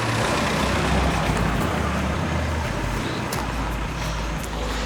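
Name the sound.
cars passing through entry lane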